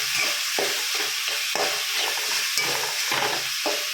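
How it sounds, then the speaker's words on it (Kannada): Tomatoes frying in a pan while being stirred, with a steady sizzle and regular scraping strokes roughly every half second, close up with no voices. "ಟೊಮೆಟೊ ಎಲ್ಲ ಎಡ್ಡೆ ಕಾಯಾಡು ಸ್ಮ್ಯಾಶ್ ಆಡು ಟೊಮೆಟೊ"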